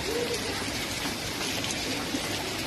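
Steady rain pattering on surfaces outdoors, a dense, even hiss of drops that stays constant and moderately close throughout.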